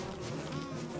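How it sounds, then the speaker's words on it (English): Bees in the video game Don't Starve Together buzz in a continuous, close insect drone for about a second, with no voices over it. "The bees are right there."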